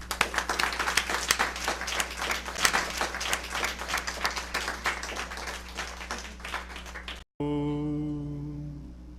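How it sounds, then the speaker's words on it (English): An audience claps steadily to welcome a speaker at a spirituality workshop, a dense, even patter that stops abruptly and gives way to a voice. "Let's welcome Dr. Ramakrishna with a big round of applause."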